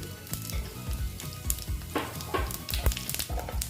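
Bay leaf, whole garam masala and cumin seeds frying in hot oil in a pan, a close, crackling sizzle with sharp popping bursts and light stirring throughout.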